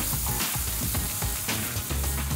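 Steak sizzling on a hot grill, a loud continuous crackling hiss with small popping spits throughout.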